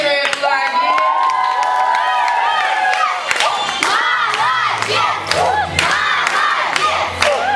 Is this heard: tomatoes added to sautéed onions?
no